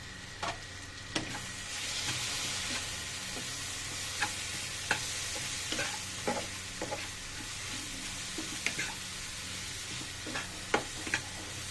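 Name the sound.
stirring spices with turmeric frying in a pan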